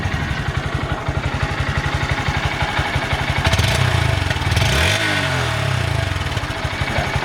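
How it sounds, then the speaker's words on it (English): A Honda Grom 125 motorcycle idles close by with a steady low exhaust putter, briefly rising in a short rev before settling back to an even idle. "Grom exhaust, and it doesn't sound like anything special"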